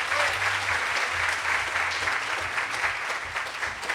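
Audience at a Catholic religious gathering applauding, steady dense clapping from a large crowd holding even throughout, with a low hum underneath.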